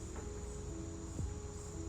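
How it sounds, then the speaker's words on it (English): Crickets and cicadas chirp steadily outdoors beside a creek, a faint continuous insect drone with a brief louder sweep near the middle, no talking. "the crickets, the cicadas"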